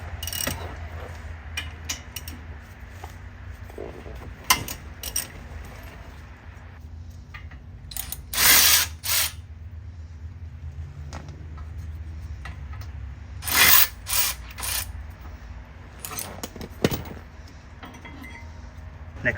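Ratchet working loose the 19mm brake caliper bracket bolts on a Honda CR-V front brake, giving a few bursts of quick metallic clicking at irregular intervals over quiet shop background.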